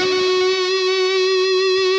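A single sustained, distorted lead guitar note through Amped Roots with Waves H-Delay rings out loud and steady, with a smeared echo tail behind it.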